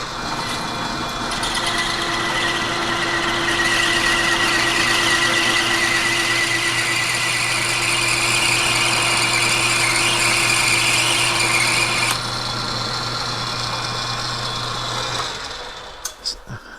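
Metal lathe taking a heavy single-pass cut of about 200 thousandths in brass at 550 RPM, a loud steady motor hum and cutting whine running continuously, shifting slightly partway through before easing off near the end.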